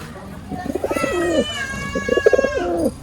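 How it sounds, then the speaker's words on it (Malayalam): Pigeons coo close by in a loft in two soft, rolling bursts of throaty notes, with a faint high tone in the background. "ഇതാട്ടോ പ്രാവ് വരുന്നേ."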